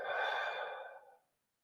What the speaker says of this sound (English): Taking nice deep breaths in through your nose